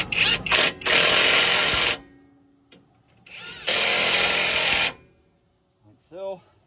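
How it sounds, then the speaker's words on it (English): On a 2008 Dodge Ram, a power impact tool works on front shock bolts, firing in loud, close bursts of rattling hammering, a cluster of short blasts then one long run, with a brief voice and faint clinks in between. "Now I'll get the impact hammer"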